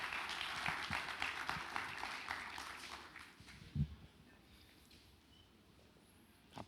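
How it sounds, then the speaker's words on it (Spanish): An audience at an indoor talk claps in a soft, fairly distant burst of applause that thins out after a few seconds, leaving quiet room noise. "Un fuerte aplauso."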